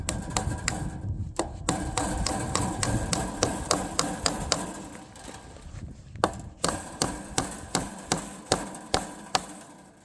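A staple is driven into a wooden fence post over the tensioned fence wire with a hammer. Sharp, regular hammer strikes come close and loud, run on in a steady rhythm, and speed up toward the end, with no talking.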